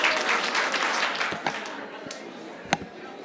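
A crowd of attendees at an agency workshop claps in a loose burst that quickly thins out, leaving a few isolated sharp claps trailing afterward rather than four clean unison beats.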